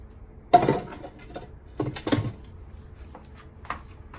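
Metal lid and section set onto a Weber Smokey Mountain smoker holding lit charcoal, giving a few sharp metallic clanks and scrapes, close by, separated by short quiet gaps.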